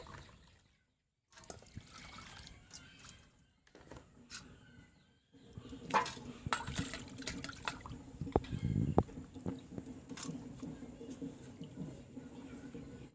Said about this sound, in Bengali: আমি এখন মাছটাকে ভালো করে ধুয়ে নেব